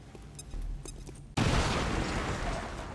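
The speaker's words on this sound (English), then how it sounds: "Grenades are great." A grenade goes off in XCOM 2 as a sudden loud blast that cuts in over quieter game sounds and leaves a broad, roaring rumble trailing on afterward.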